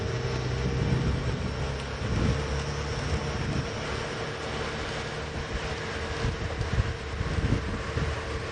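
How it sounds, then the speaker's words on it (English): Wind blows outdoors on an evening safari drive, a continuous loud rushing buffet with low gusty rumbles rising and falling throughout. "The wind is picking up a bit."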